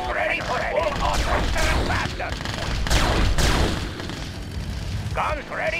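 A Gatling tank in Red Alert 2 fires in dense, sustained bursts mixed with explosions and booms, loud throughout, while a unit voice speaks over the battle.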